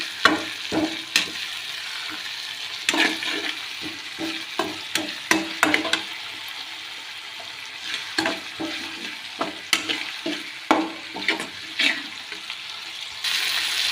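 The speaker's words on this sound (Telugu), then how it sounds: "సాల్ట్ వేసుకొని ఒకసారి బాగా కలుపుకోవాలండి" Fried food in a pan is stirred after salt goes in, with a spoon scraping and knocking in irregular bursts over a steady sizzle; no voices.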